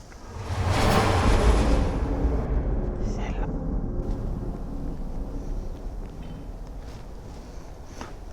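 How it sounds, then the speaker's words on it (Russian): Steady wind rumbles and buffets the microphone outdoors by a pigsty, strongest early and then easing into a constant low roar, with a voice talking over it. "сейчас еще ветер дует"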